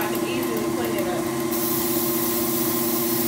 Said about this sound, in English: Make sure you spray your pan down very well, including the flute.